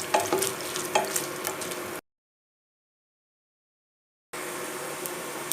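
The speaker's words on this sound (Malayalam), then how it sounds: "തേങ്ങക്കൊത്ത് നന്നായിട്ടൊന്ന് കളറൊക്കെ മാറി ഒന്നങ്ങ് മൊരിഞ്ഞ് വന്നോട്ടെ." Coconut pieces fry in a pan with a steady close sizzle and light stirring scrapes, which cut out to silence partway through and then resume.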